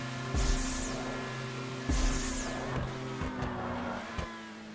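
A racing car engine in GTA Online revs and eases off in repeated throttle bursts, with a steady motor hum and brief tire noise throughout.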